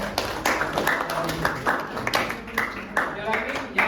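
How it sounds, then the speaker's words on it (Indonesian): Audience applause in an Indonesian training session or seminar: scattered, uneven claps with sharp taps repeating across the few seconds at moderate level, mixed with faint room murmur. "Berikan aplaus ya untuk"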